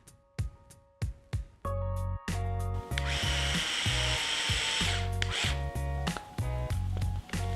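A cordless power drill drives small M2 screws into 1.9-inch bead-lock crawler wheels: a few short ticks, then sustained high whirring bursts, close and loud, each run stopping briefly before the next screw.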